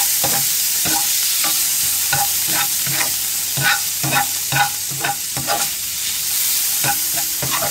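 Onions and tomatoes sizzle in a hot pan as a utensil stirs them, giving loud, regular scraping strokes about every half second over a constant frying hiss, with no talking.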